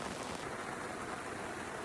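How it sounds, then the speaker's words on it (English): Steady rain falls around a riverside campsite in Botswana's Khwai area, a soft, even hiss of drops on surfaces that stays constant and fairly faint, with no voices. "Raining in the Kwai."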